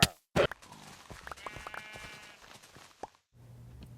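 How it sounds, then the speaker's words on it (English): Wavering bleats from a wild pink sheep in Minecraft come amid soft clicks and game effects. The sound is fairly faint and broken up, with a louder burst at the start. "Like another wild pink sheep"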